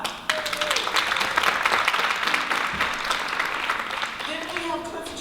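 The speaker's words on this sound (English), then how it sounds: "Please give her a clap." An audience claps steadily at a community event honouring a local businesswoman, a broad, sustained round of applause with a faint voice or two underneath, tapering slightly toward the end.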